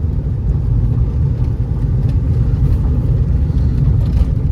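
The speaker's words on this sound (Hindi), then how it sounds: "कैबिन में इतना नॉइज है" Steady low road rumble and engine drone fill the cabin of a Mahindra XUV500 with about 233,000 km while moving, a constant dense hum with no voices.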